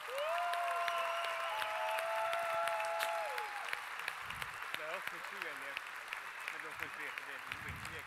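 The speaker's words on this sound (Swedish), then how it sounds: "Vi ger dem en jättestor applåd." An audience at a school talent show applauds high school performers from an arts program, sustained clapping over a lingering music tone, with a host speaking over the tail of the applause.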